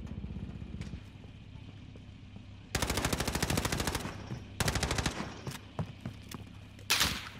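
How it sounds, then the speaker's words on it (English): Bursts of automatic gunfire ring out in Call of Duty Warzone: rapid rattling volleys from a few seconds in, a second burst later, then a sharp final shot, all without talk. "Where's those shots coming from?"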